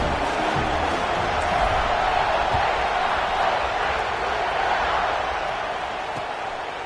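A stadium crowd roars steadily in an American football video game, a dense, loud wash of cheering noise that holds throughout and eases slightly near the end.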